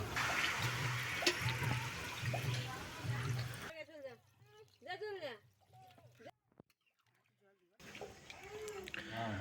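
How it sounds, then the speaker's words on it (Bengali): Water being poured into a pot of simmering Peri duck and potato curry, a steady rushing pour for a few seconds, followed by someone talking, a brief silence, then more cooking sound. "আলু দেওয়ার পর জল দিয়ে এটাকে সেদ্ধ করতে হবে। দিয়ে দেবো জল।"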